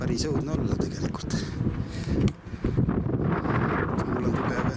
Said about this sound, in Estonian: Tuul on tugev.